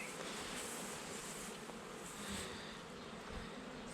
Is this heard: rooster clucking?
no